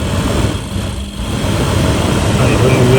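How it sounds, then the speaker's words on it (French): A restored MGB GT V8 engine runs steadily after starting, a loud continuous low rumble with a slight rise in pitch toward the end, filling the whole stretch close by. "On va essayer de faire fonctionner le moteur."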